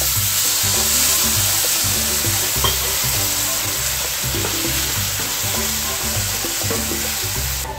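Frying masala sizzles loudly as half a glass of hot water is poured in, with a dense continuous hiss and a steady rhythmic scrape of stirring underneath, close and without any voice.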